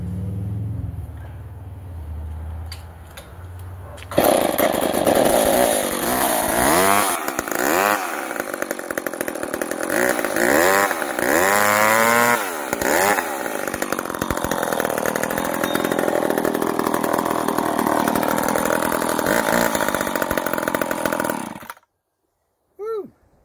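Several vintage McCulloch 10-10 chainsaws start and run, loud and close, the two-stroke engines revving up and down in repeated surges for about eighteen seconds before cutting off abruptly, followed by a brief pull or sputter.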